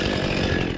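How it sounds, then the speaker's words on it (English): A chainsaw roars continuously while cutting trees high in the air, a loud, dense, rasping buzz held steady for under a second with no pauses or voices. "With a chainsaw and a rope, one man takes on gravity hundreds of feet in the air."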